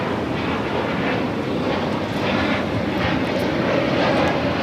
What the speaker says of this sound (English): This is Spirit Airlines 1190 taking off to Dallas Fort Worth on the A320 Neo